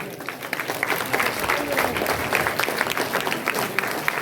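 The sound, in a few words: audience applause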